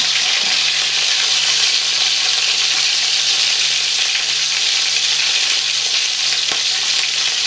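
Burger patties frying in a pan make a loud, dense, unbroken sizzle that holds steady all the way through, close up with no talking.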